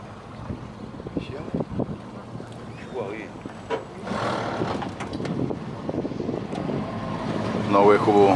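A motorboat cruising on the Chobe River during a boat safari, its engine droning steadily under wind buffeting the microphone while people talk aboard.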